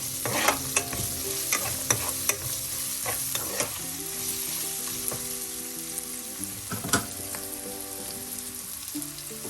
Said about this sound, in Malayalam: എല്ലാം കൂടെ നന്നായി മിക്സ് ചെയ്ത് ലോ ഫ്ലെയിമിൽ വെച്ച് വഴറ്റാം